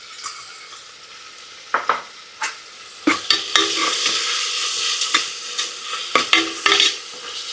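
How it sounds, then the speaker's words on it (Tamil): Onions sautéing in oil with rock salt for a mutton gravy crackle and sizzle steadily in a pan, broken by loud scraping stirs of a spoon against the metal, close and clear. "வெங்காயம் நல்லா கொஞ்சம் பொன்னிறமாக வர வரைக்கும் கொஞ்சம் நல்லா வதக்கி விட்டுக்கலாம்."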